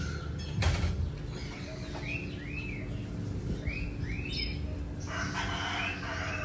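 Roosters crow several times amid a busy chorus of chickens and other birds on a rural Philippine farm where goats roam, with steady outdoor background noise and no talking.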